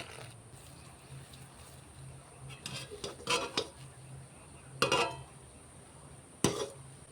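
A utensil stirs milk thickened with powdered milk in a pan while making chhana barfi sandesh, with quiet scraping and several sharper clinks of metal on the pan over a soft kitchen background.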